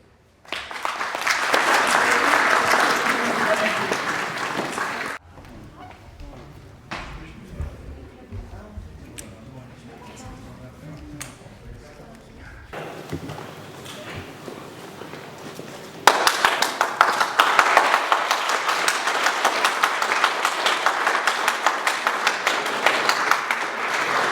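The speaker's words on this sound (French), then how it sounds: "Merci de les applaudir" Audience applause at a Paris commemoration of the 17 October 1961 massacres, welcoming an Algerian school group; loud clapping fills the opening seconds, drops to a quieter stretch with murmuring voices, then swells again into sustained applause.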